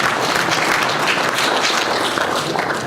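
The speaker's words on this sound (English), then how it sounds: "Let's give them a round of applause" An audience gives a sustained round of applause, dense and steady clapping filling the whole stretch at close, even loudness.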